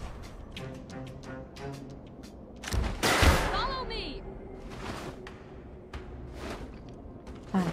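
Enemy gunfire in the shooter game Interregnum Chronicles: False Prophet, bursts of rapid shots with a loud blast and whoosh near the middle, under a player's speech.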